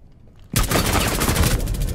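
Gunfire in Rainbow Six Siege bursts in loudly after a short quiet lead-in, then rolls on as a dense, continuous volley of rapid shots that fill the rest of the moment.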